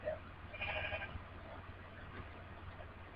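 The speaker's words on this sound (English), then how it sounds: "Okay, there's two more sheep over here." A sheep in a video game gives a short bleat near the start, faint against a quiet background hum, after which only low ambience continues.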